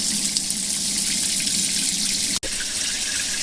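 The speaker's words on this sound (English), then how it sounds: "Let's get the taps running." Taps in a motorhome run full, giving a steady, close hiss of flowing water into a sink with a momentary cut-out near the end before the flow resumes.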